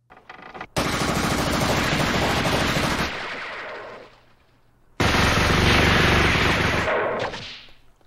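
Automatic gunfire from a Ghost in the Shell movie scene, two long loud bursts of rapid shots lasting a few seconds each, separated by a brief lull with fading echoes.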